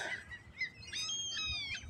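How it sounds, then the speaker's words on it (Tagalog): Birds calling and chirping in a Moscow village, a few bright repeated calls rising above a soft, quiet outdoor background with no talking. "Narinig niyo yung mga ibon, guys?"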